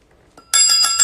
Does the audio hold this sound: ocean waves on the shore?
no